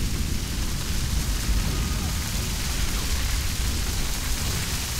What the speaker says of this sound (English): It's not rain, it's hail. That's why it's so loud.